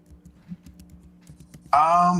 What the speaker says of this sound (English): I think she's typing